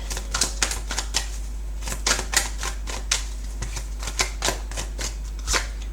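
Tarot cards being shuffled by hand, a run of quick crisp slaps and riffles in irregular bursts, close and fairly loud over a low steady hum.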